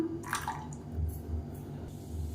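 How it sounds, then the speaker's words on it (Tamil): Water is poured into a mixer grinder jar to rinse out leftover chutney, with soft splashing, sloshing and dripping against a low background hum in a home kitchen. "இப்போ மிக்சி அலசிட்டு தண்ணி சேர்த்துக்கலாம்"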